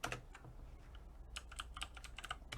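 Rapid clicking of keys on a computer keyboard attached to a Mac Pro, a short burst of uneven taps close to the microphone with no voices.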